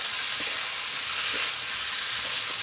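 Spice masala frying for a vegetarian patol (pointed gourd) curry: a steady, close, bright sizzling hiss with only faint stirring touches and no talking.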